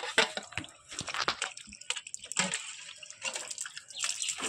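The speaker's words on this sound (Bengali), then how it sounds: "এটা আপনাদের একটু ধুয়ে দেখাচ্ছি এটা কত সুন্দর পরিষ্কার হয়েছে" A freshly cleaned brass pot is rinsed under running water, giving irregular splashing and dripping with short bursts of pouring, close and fairly quiet, with no talk.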